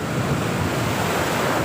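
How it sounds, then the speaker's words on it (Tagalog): Big ocean waves surging and breaking at sea off Tordil, Casiguran, Aurora, a steady loud roar of surf mixed with wind buffeting the microphone, no voices. "Laki na yung mga alon."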